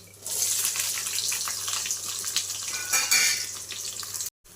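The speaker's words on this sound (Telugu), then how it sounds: "తగినంత ఆయిల్ వేసుకొని హీట్ అయిన తర్వాత పోపు వేగిపోయిన తర్వాత ఆనియన్ వేసుకుందాం" Chopped onion tipped into hot oil over a tempering of spices for a bottle gourd curry, giving a steady close sizzle and hiss that runs on evenly before cutting off abruptly near the end.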